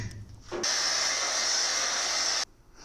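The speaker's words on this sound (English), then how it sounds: "And to expedite that process, we will take our blow dryer." A blow dryer drying primer on a pizza pan ornament switches on with a loud, steady airy whir, runs for about two seconds, then cuts off abruptly.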